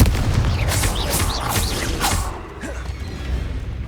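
A blasting Confringo spell cast in the video game Hogwarts Legacy erupts in loud booming explosions with whooshing streaks and crackling debris over about two seconds, then the rumble trails away.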